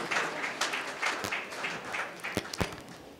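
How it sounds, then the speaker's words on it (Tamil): A quiet audience claps at a community day celebration at Don Bosco Vellakinar in Coimbatore as students garland guests. The clapping is steady and scattered, with a few sharper, louder claps standing out near the end. "அனைவரும் ஜோரா கைத்தட்டி நம்முடைய வாழ்த்துக்களை தெரிவித்துக் கொள்வோம்."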